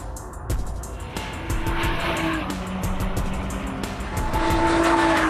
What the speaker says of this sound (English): Excitement grew with the spotting of 2 new GTRs, including one from Cobb, which hit the track hard.